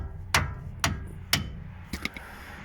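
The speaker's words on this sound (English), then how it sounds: "I need a hammer." A hammer strikes a bushing on a BMW 7 Series in close, sharp blows: three evenly spaced hits, then a quicker cluster of lighter taps, with no talking.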